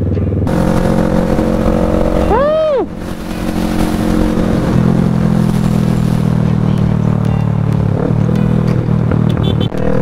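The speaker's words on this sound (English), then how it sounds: "May motor, ha? May motor." A motorcycle cruising along a smooth provincial road in La Union, its engine droning loud and close throughout, with a brief rising-and-falling tone from a passing vehicle early on.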